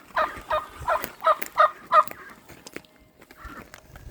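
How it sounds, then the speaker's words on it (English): Several hens cluck and call in quick bursts close by on a homestead, a loose run of five or six calls followed by softer clucks fading into quiet. "Come on, chickens."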